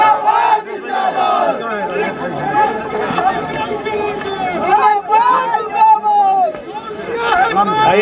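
Dense crowd noise at a political campaign rally for Nitish Kumar's allies in Tikari, Bihar, with many voices shouting and chanting together, loud and close, continuous throughout with raised cries rising and falling.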